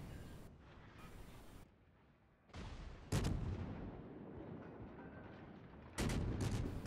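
Large-caliber secondary guns fire from a warship in World of Warships, heavy booming reports with long rumbling tails, a few spaced blasts punching through steady low engine and sea noise.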